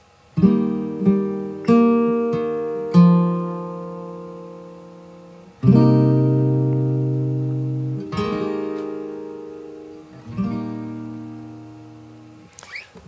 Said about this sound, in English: a part where the guitar mirrors the melody of the song.